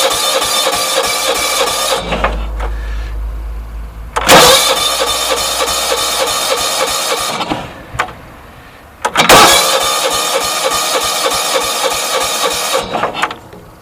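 A John Deere 160 lawn tractor's engine cranks and starts cold several times, catching and running loudly for a few seconds before cutting out, then restarting, with short quiet gaps between attempts.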